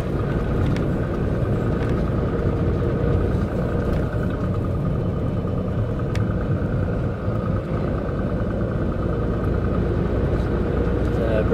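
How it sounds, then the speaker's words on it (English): A concrete mixer truck drives along a road, its engine and tyres giving a steady, loud low rumble that holds evenly from start to finish with no talking. "I'm currently driving a concrete mixer."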